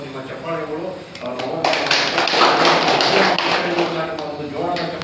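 An audience at a Bengaluru South district meeting breaks into a burst of applause mid-clip, dense clapping rising between stretches of someone speaking through a microphone.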